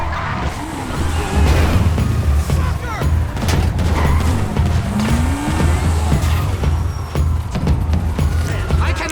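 A Grand Theft Auto car chase with engines roaring, tires skidding and squealing, crashes and bursts of gunfire, loud and continuous with brief talk mixed in.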